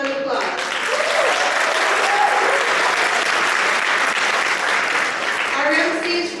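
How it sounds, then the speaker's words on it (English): A youth wearable arts show audience in Ketchikan breaks into sustained, loud applause, a dense wash of clapping holding steady throughout with a few voices faintly audible underneath. "Give yourselves a round of applause."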